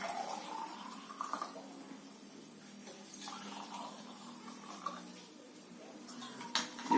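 Hot water is poured into a glass to make lemon sharbat: a faint, soft trickling splash that runs steadily, with a couple of light clinks near the end.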